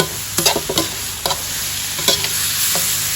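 A spatula scrapes and tosses sour bamboo shoots in a hot pan, giving several sharp stirring strokes over a steady sizzling hiss. The sound is close and there is no talking.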